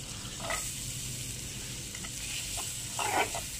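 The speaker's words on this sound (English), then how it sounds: "Turn on the flame for the tadka. some butter. Time to send in the onions." Onions sizzle in hot butter for a tadka in a dal gosht recipe: a quiet, steady frying hiss with a few brief spatters and stirring scrapes, no talking.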